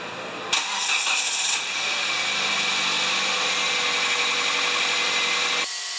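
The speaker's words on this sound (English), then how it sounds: "fire it up. You might crank it a couple times because now the cylinders are full of air, right?" A 2010 Kia Soul engine cranks briefly and catches after a spark plug change, then settles into a steady, fairly loud idle that runs until an abrupt cutoff near the end.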